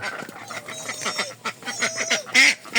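Ducks quacking near water in a village yard, a rapid series of nasal honking calls in close succession, loud and near, with no talking over them.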